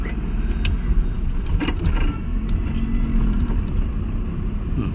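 A Maruti car on an H-type driving test track at a motor training school in Ichalkaranji gives a steady, close engine rumble with low road noise throughout.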